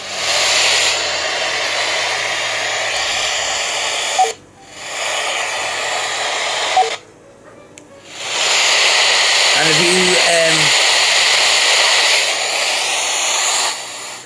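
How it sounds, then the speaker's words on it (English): A Baofeng GT-3 spirit box radio sweeps through FM stations, producing loud bursts of hissing static broken by short gaps, with a brief tonal blip partway through. "you can see the FM scanning through on both of the machines"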